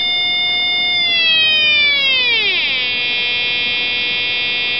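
A square-wave tone from a 555-chip voltage-controlled oscillator sweeps steadily down in pitch as the control voltage changes, then holds at a lower buzzing note, loud and continuous with no talk.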